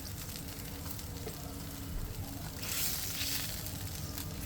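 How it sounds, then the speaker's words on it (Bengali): Boiled chicken tipped into a hot pan for Peshawari chicken, a soft sizzle that swells louder toward the end, with no voices. "চিকেনটা ঢেলে দিব পুরাটা ঢেলে দিলাম"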